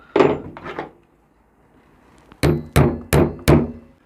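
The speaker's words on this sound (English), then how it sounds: "you can just tap out the stripped bolt like this" A hammer tapping at a stripped, rounded bolt: two quick metallic knocks, a pause, then four sharp evenly spaced strikes, close and loud with no talk.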